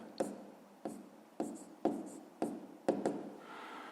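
Pen or pencil strokes on paper while a maths exercise is worked out by hand: six or seven distinct, fairly quiet scratching taps spaced about half a second apart, ending in a brief softer rub.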